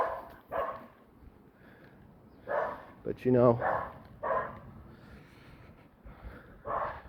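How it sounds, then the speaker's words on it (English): Dogs bark repeatedly in short bursts at moderate distance, scattered across a few seconds, with a person talking over them. "So sorry about the dogs."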